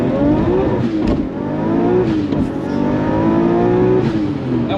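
A Nissan R32 GTR engine revs hard and loud, climbing in pitch, dropping briefly on the 1-2 gear shift, then pulling up again, with no voices.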